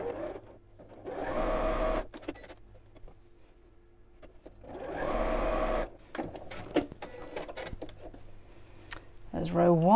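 A domestic sewing machine runs two short bursts stitching patchwork pieces of a four-patch cushion cover at a quarter-inch seam, with handling clicks and fabric rustle between and a voice talking over parts.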